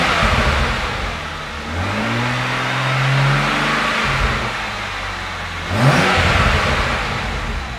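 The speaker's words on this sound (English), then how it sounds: "Injectors are so noisy when you haven't got the cover on." A BMW N54 engine in an E92 335i with the injector cover off, running close by with a couple of rising rev blips and a busy mechanical ticking clatter over the idle.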